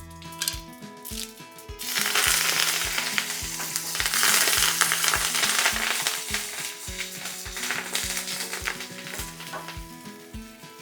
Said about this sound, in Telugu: ఎండుమిరపకాయలు వేసి కాస్త వేగనివ్వాలి తర్వాత ఫ్రెష్ కరివేపాకు